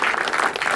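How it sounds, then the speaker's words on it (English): Brief burst of dense applause from the audience at a fellowship research symposium, many hands clapping together at an even level. "I want to give the fellows another round of applause"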